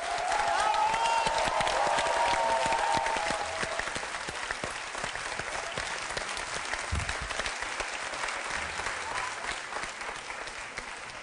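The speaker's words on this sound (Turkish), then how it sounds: "Alkışlarla Sayın İnan Kıraç." Studio audience applause on a Turkish television special greets a guest joining by phone: dense, steady clapping fills the whole stretch, loudest at the start and easing slightly, with a brief tonal sound early on.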